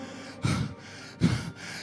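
Two heavy, labored gasping breaths, each a rough rush of air, separated by short pauses of quieter breathing.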